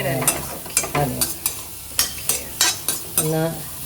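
Grated coconut dry-roasts in a pan while a spoon stirs it, giving repeated scraping strokes over a soft sizzle at close range.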